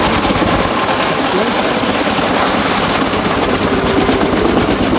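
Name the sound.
KMAX helicopter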